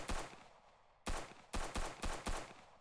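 Simulated M4 rifle fire from an Unreal Engine first-person shooter template game: one sharp, loud shot with a long tail, then a quick burst of four punchy shots in a steady rhythm, with no voices.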